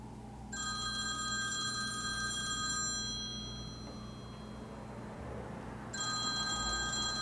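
A telephone rings in two bursts of bright electronic trilling, separated by a pause, over a steady low background hum.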